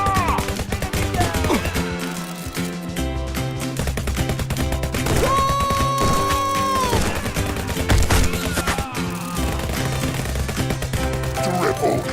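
Two .45 caliber revolvers fire rapidly in the VR shooter Guns'n'Stories Bulletproof. Quick, sharp cracks repeat throughout over loud, continuous background music.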